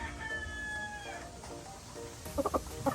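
Young rooster (stag) among backyard breeder stock, giving a drawn-out crowing call followed by a few short, sharp clucks, fairly faint with farm background noise.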